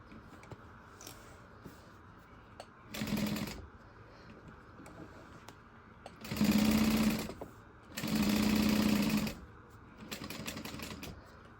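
A sewing machine stitches a circle handbag in several loud, close bursts of rapid whirring, the longest two running about a second each, with quiet gaps between them and no talk.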